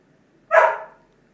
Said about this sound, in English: Sorry, my doggy's very upset.